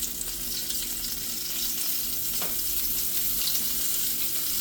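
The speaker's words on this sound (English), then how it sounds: "But while these are frying" Steady crackling sizzle of green tomatoes frying in hot oil, close and continuous, with no talking.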